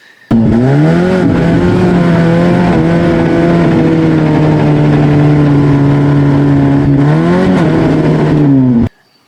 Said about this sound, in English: Occasionally you'll hear the chain slip.